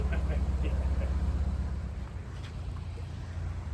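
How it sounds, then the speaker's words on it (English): A low, steady engine drone of a narrowboat going by on a canal, slowly easing off, with a faint breezy hiss in the background. "This is a chap on a boat going down."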